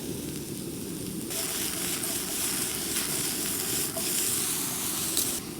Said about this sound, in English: You can see this is like a nice meat steam coming from these steaks.